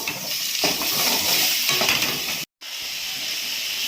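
Tomatoes frying with onions in a pan, a steady hiss and sizzle with stirring scrapes, loud and close, broken by a brief cut of silence.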